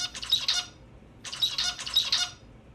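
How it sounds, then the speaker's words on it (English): Male zebra finch song in a laboratory setting: two short, bright bursts of clustered chirping syllables separated by a brief pause, close and clear with no voices. "In natural conditions, each male zebra finch produces a different song."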